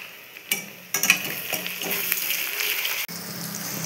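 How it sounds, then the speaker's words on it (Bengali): Onions fry with a little salt in a pan, giving a steady close sizzle with a few clinks and scrapes from stirring, followed by a short break before the frying hiss resumes. "খুব ভালো করে ভেজে নেব। একটু নুন অ্যাড করে দিলাম, পেঁয়াজগুলো গলে যাবে।"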